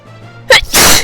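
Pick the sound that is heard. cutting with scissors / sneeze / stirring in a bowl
sneeze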